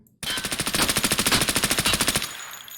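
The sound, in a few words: AS VAL rifle firing in a video game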